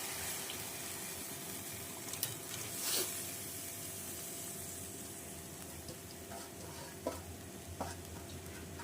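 Soaked paneer, previously steeped in milk, goes into a pan of cooked-down masala for a capsicum paneer dish, giving a steady close sizzle and frying hiss with occasional scraping stirs.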